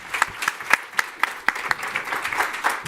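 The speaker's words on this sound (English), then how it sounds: "Round of applause for Dr." Applause from a conference audience at a cancer-control panel, with a few distinct sharp claps standing out at first before thickening into a fuller, steadier wash of clapping.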